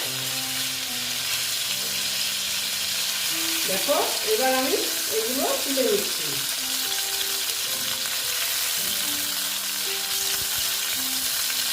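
Pieces of pointed gourd (potol) fry in hot oil in a pan, a steady soft sizzle running the whole time, while a voice speaks briefly midway.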